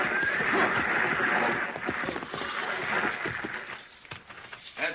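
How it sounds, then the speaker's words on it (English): A six-horse stagecoach hitch on an overland route rolls past, hooves clip-clopping in a dense, continuous clatter with a whinny, loud and near, fading slightly toward the end. "Driving a 6-horse hitch ought to keep him awake."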